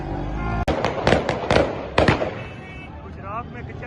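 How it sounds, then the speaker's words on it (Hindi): A rapid run of sharp cracks from gunfire at a sit-in protest in Kachehri Chowk, Gujrat, about six reports in quick, uneven succession, then fading, with voices and crowd noise around them. "गुजरात में कचहरी चौक में जनाब फायरिंग स्टार्ट कर दी"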